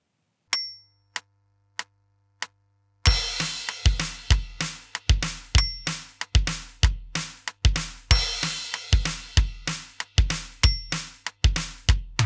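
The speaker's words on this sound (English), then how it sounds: "The only thing we need to worry about is the transition at the end, which is three floor tom hits." A rock drum groove on a kit starts with sparse hi-hat ticks and a low hum, then kicks into a full, loud beat of kick, snare and cymbals and closes with a transition of three floor tom hits.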